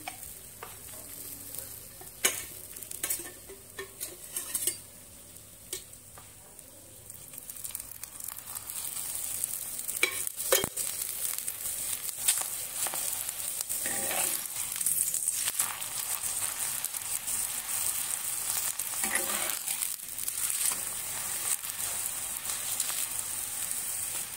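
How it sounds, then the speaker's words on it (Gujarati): Methi thepla flatbreads roasting on a hot pan, a soft continuous sizzle with intermittent scraping and stirring clicks from a spatula, fairly quiet and close. "સરસ બધા થેપલાને આપણે શેકી લઈશું"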